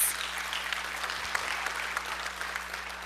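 Steady applause from a school board meeting audience, a dense even patter of many hands clapping for about three seconds with no talk over it.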